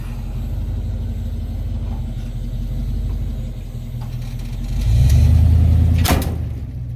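A Nissan 240SX rumbles at a stop, then its engine revs and swells as it launches. A sharp crack follows just after the peak.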